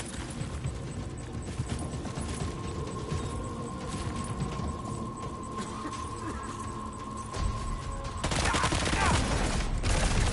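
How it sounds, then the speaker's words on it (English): Assault rifle gunfire in a video game rattles in dense, continuous bursts, loud and close, over a steady electronic hum, with the firing intensifying toward the end. "we out of grenades, so now we have to use the assault rifle"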